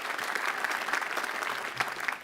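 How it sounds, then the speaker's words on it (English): Steady applause from a commencement ceremony audience fills the whole stretch, a dense, even clatter of many hands clapping with no voices standing out. "You do deserve a round of applause."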